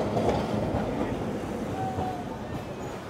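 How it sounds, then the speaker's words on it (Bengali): A Kolkata tram rolls along its rails with a steady rumbling clatter of wheels, fairly close and continuous, with a faint metallic squeal partway through. "এই হচ্ছে কলকাতার ট্রাম।"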